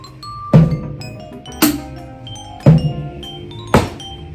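A drum kit plays a repeating pattern of four heavy hits about a second apart, each ringing out with cymbal wash before the next.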